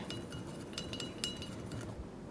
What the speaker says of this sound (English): So let's go ahead and stir them up. And I'm going to use a chopstick